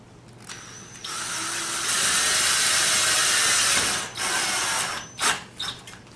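A power driver sinking a self-tapping screw into a TV antenna, a rising whirring drive lasting a few seconds, then brief bursts of tool noise and clicks as it finishes.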